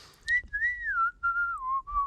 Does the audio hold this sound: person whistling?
yes